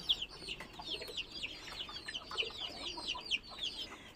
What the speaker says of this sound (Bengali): এখানেও কিছু মুরগির বাচ্চা আছে